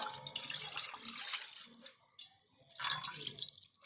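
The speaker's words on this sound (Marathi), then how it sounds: "आता मी पहिलं गुळाचं पाणी घेते टोपामध्ये" Jaggery water poured into a cooking pot for sweet gulgule batter makes a soft splashing trickle, faint and close, with a pause before a second burst of pouring.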